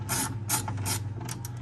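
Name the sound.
ratchet wrench driving Honda Civic window regulator bolt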